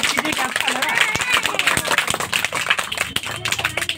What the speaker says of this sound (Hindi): ताली बजा करके तो साबित कीजिए कि अच्छा लगा।